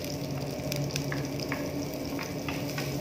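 Garlic fries in a pan alongside spring onion and ginger for crab in sweet chilli sauce, a constant close sizzle with small popping crackles and a low background hum.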